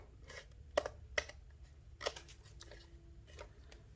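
Scissors cut through stitched window screen in a few sharp, close snips spaced irregularly over a quiet background, with no talk.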